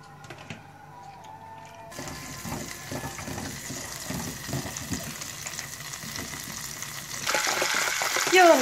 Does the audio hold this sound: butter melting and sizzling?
yes